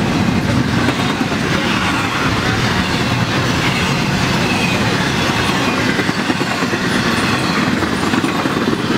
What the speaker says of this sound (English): Before I was so rudely interrupted by that train